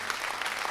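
Brief burst of audience applause at a concert, a dense wash of clapping from a crowd without distinct voices.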